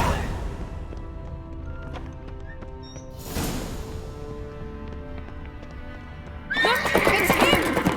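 A horse in The Witcher 3 game gallops with steady clip-clop hoofbeats under a musical score, then gives a loud, bright whinny near the end.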